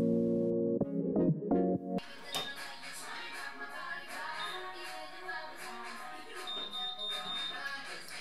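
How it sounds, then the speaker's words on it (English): A Vidal Sassoon Curl Secret curling iron gives a short series of electronic beeps at the start, signalling the curl is ready, followed by softer handling noise and faint background sounds. "when it beeps a few times like that, that means that your curl is ready and you can release."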